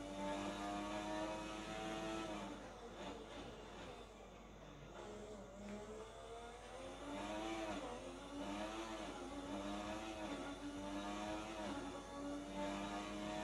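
Ayrton Senna's 1988 McLaren Formula 1 car, driven in a racing game around the Belgian Grand Prix circuit, holds a steady engine roar that rises and falls in pitch through gear changes and revs, heard alone.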